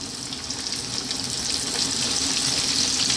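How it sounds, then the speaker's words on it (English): Flour-dusted fish pieces frying in hot oil for a Chinese stir fry fish, a dense, steady, close sizzle and hiss running without pause. "We're gonna fry this, so get it nice and hot."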